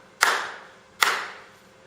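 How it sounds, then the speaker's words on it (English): Two sharp hand claps during a stage performance, spaced about a second apart, each ringing briefly in a reverberant room before fading. "So you clap."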